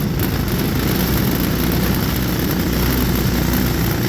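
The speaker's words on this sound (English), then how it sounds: "you can hear I'm accelerating, which is actually kind of terrifying" A motor vehicle accelerates at about half throttle near 15 to 20 mph, giving a loud, steady droning engine and drivetrain roar that holds constant throughout with no talking.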